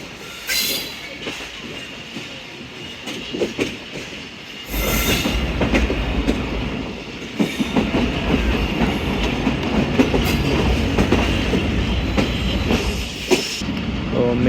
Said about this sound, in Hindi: गवर्नमेंट का स्टॉप करेगी सांगला हिल्स जंक्शन पे 48 डाउन रहमान बाबा एक्सप्रेस